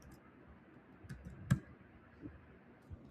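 Faint, scattered clicks of typing on a computer keyboard, a few soft taps spread irregularly over a quiet background hum.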